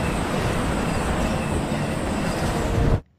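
A train from a film runs steadily along the rails, a dense continuous rumble and rattle of carriages that holds loud and even for about three seconds before cutting off abruptly.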